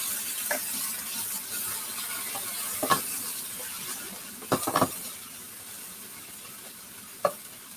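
Onions stir-fry in a pan for a beef, black bean and cashew stir-fry, a soft continuous sizzle broken by a few scraping stirs and clicks of a utensil.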